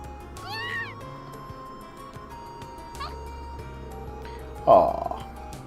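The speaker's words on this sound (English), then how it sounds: "Such an adorable kitty." A cat in the video game Trails of Cold Steel gives a few short meows spaced apart, faint under in-game music, with one louder, brighter meow near the end.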